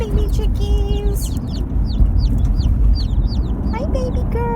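Baby chicks distress calling in a rapid stream of high, shrill peeps, loud and close, over a low rumbling background; a person speaks softly in the middle.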